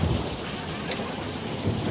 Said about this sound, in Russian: Хороший дождик. Благодать, аж сверкает молния.